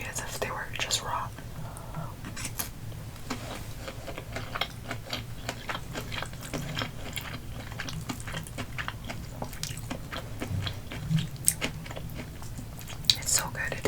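Whispered chewing of a spicy salmon poke bowl with crunchy ingredients, close and steady with soft bites and mouth sounds throughout, under a low background hum and occasional quiet whispering.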